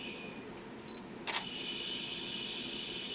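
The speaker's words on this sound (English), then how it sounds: "I'm going to take a test shot, make sure my lighting is correct" One quick camera shutter click for a test shot during an indoor newborn photography session, close and crisp. A steady high electronic whine from the lighting setup runs under it.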